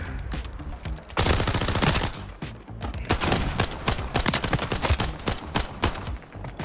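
Rapid bursts of gunfire from a first-person shooter match in search and destroy mode, loud and dense, with volleys of automatic shots and single cracks repeating throughout and no talk over them.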